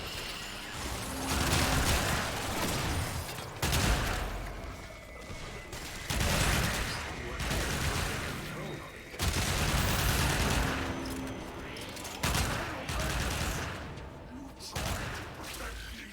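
A max-range, area-of-effect beam weapon fires in Warframe, loud sustained bursts of crackling weapon fire that repeat in blocks of a couple of seconds with brief gaps between them, with a player talking quietly beneath.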